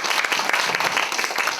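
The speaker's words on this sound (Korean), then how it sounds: "천둥벼락 같은 센 박수로" Audience applause at a regional dialect speaking contest, a dense, steady wash of clapping from a crowd with no voices standing out, continuing evenly throughout.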